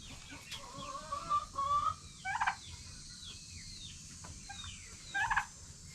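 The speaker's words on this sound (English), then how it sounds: "He said he's trying to gobble to breed that hen." A turkey tom on a goat farm gobbles near a hen in a few quick rattling bursts, with chicken-like clucks and calls between them against a quiet outdoor background.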